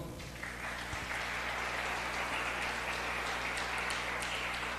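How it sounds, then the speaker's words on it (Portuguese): A church congregation applauds during an evening service, a dense, sustained roar of clapping over a steady low hum, continuous from start to finish. "Vamos aplaudir o Senhor?"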